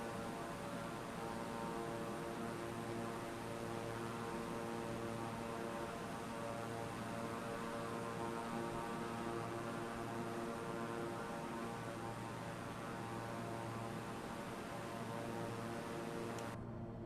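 A simulated aircraft flying in to land in Microsoft Flight Simulator 2024, a steady droning engine hum with a constant airy hiss, unchanging and even throughout before cutting off at the end.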